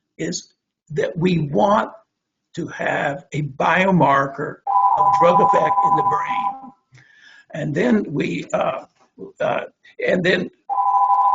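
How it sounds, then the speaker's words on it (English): A phone beeps in the background with a steady electronic tone that comes in two stretches, partly under a man's continuous lecture-style speech. "I'm sorry about the phone in the background."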